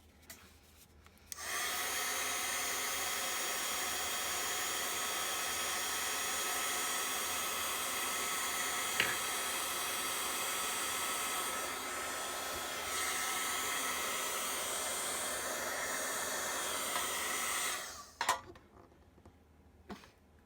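A heat tool reheating earring material while crafting, a loud steady blowing whir that switches on, runs continuously for about sixteen seconds and then cuts off.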